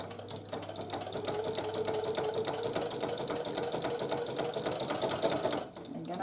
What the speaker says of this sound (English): keep on sewing until we get to the other corner